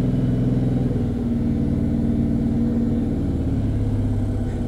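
A car engine revs steadily while accelerating during clutch-control driving practice, a loud continuous low drone that holds and swells slightly for several seconds without any talk.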